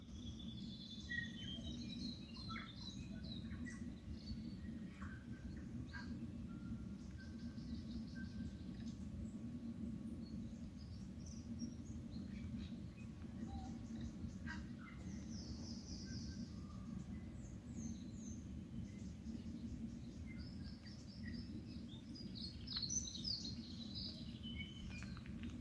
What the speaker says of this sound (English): Doing this video just to hear bird sounds.